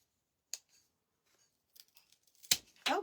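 Scissors snip through a plant stem for a bunny planter with a few sharp, close clicks and cuts: an isolated snip, quieter fumbling, then two louder crisp cuts in quick succession near the end.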